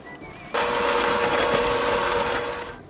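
A hand mixer creams butter and sugar for cookie dough, its motor whirring in at once with a steady, loud, close whine that holds for over two seconds and then cuts off.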